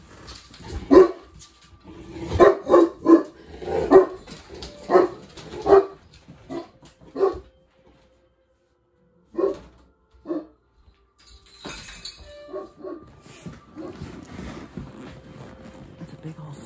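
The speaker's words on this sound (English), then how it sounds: "they think they can see their reflection in the window, barking at themselves" Dogs indoors bark in a rapid series at a dark window during a night snowstorm, loud and close. The barking then thins to a single yap, and a voice speaks quietly over softer sounds.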